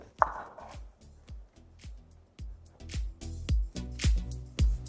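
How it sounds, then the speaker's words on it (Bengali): A knife trims the ends off an onion on a cutting board: about a dozen distinct woody thuds and cuts, growing louder and firmer toward the end, with no voices. "সর্বপ্রথম পেঁয়াজের সামনে আর পেছনটাকে আপনাদের এইভাবে একটু বাদ দিয়ে দিতে হবে।"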